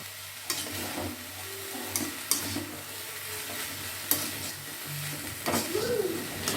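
Potato and carrot ragout filling stirred in a frying pan, a steady soft sizzle with intermittent scraping clicks of the spatula, close and fairly quiet.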